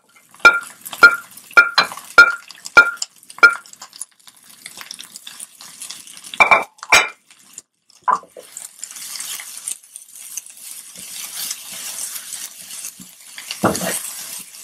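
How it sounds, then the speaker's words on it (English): Vegetables tumble into a pan for a venison rib stir fry, a string of sharp clinking drops followed by a steady sizzle and frying hiss that builds and continues to the end, with no talk. "Then we add in all of our veggies."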